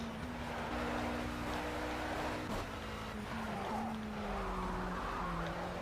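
An Alpine A450 race car at full throttle on the Nürburgring, heard as a sustained engine drone from inside the car with a steady tone that rises and slides in pitch, loud and continuous throughout.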